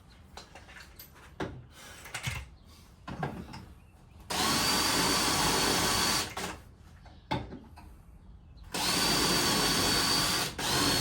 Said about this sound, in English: Should I drill it now?